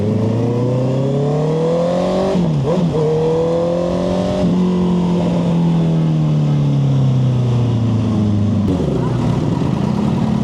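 While riding a Honda CB650R on a mountain road, the motorcycle's engine drones steadily and shifts pitch through gear changes, loud and close, with wind rushing past and the surrounding traffic mostly buried beneath it.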